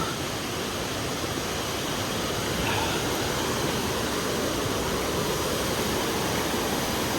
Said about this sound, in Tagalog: Oh, waterfalls.